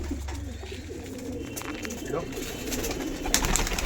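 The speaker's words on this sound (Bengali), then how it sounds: "এগুলো আমার ওড়াই পায়রার লফট" Flying-line pigeons in a home loft with a breeding section coo in low, rolling throaty calls, close and continuous, while someone talks over them.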